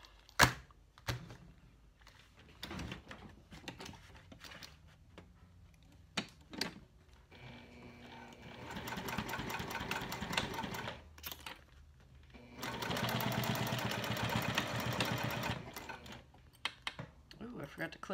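A sewing machine top stitches a vinyl wallet in two sustained runs with a pause between them, preceded by scattered clicks and handling taps, and a voice speaks briefly in between.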